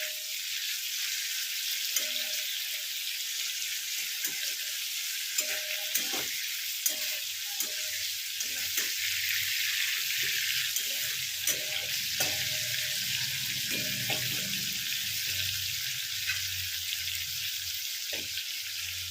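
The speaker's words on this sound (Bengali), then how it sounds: "তো হাই ফ্লেমে অল্প করে ভেজে তুলে নেব।" Small shrimp frying in oil over a high flame, a continuous sizzle broken by repeated sharp clacks and scrapes of a spatula stirring in the pan, close and steady.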